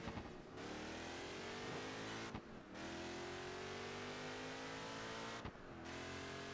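An Ultima race car in Project Gotham Racing 4 revs hard, its engine note sweeping upward through repeated gear changes with brief dips between pulls, loud and continuous with no voices.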